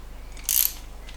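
A ratchet briefly tightens the rocker pedestal bolts on an MGB cylinder head, a single short burst of clicking close by against a low, quiet background hum.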